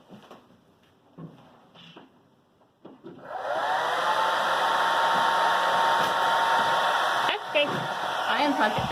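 A hair dryer on its cool burst setting switches on after some faint handling noises and blows steadily and loudly. It drops briefly near the end, then keeps roaring in a workshop setting for metalsmithing and wood moldings.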